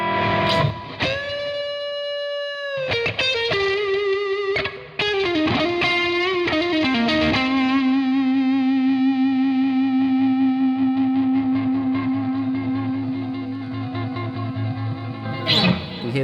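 Electric guitar played through a Maxon RTD800 pedal: notes and chords ring out loud and alone, ending in one long sustained low note that holds for several seconds with processed, effected shimmer.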